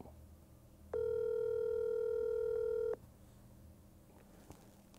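A single steady phone ringback tone sounds for about two seconds while a call waits to be answered, then cuts off into quiet room noise.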